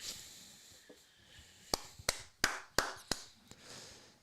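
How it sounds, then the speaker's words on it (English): A handful of sharp claps ring out, spaced roughly a third of a second apart, fairly close and crisp over a quiet background, more like scattered claps than full applause. "Let's give him a round of applause for tonight because he deserved it."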